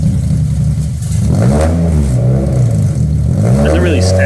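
A Mazda MX-5 four-cylinder engine revs close and loud, with several rising and falling throttle blips over a rough idle, while voices talk over it.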